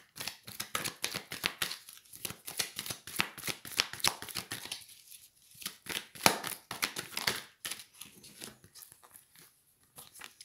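Tarot cards are shuffled by hand at close range in a quiet room, a fast run of crisp riffling flicks in bursts with short pauses between, no voice over them.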